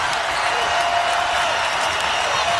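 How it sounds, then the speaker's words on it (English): A basketball arena crowd at the Moody Center is on its feet during a close women's college game between Texas and South Carolina, giving a steady, loud, broadband roar of cheering that holds without a break. "Crowd on its feet at the Moody Center."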